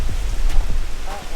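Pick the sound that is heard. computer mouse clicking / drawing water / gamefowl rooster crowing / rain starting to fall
rain starting to fall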